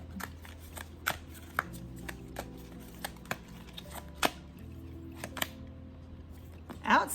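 Tarot cards are shuffled by hand in a series of soft, irregular riffles and taps spread across the clip. The sounds are close but fairly quiet, with some light background noise.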